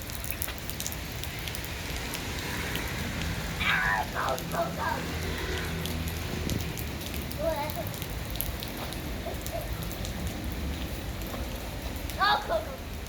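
Cold rain falls in a steady broadband hiss throughout, while a person dancing in it shouts excitedly and cheers, with brief squeals and laughter rising over the continuous downpour.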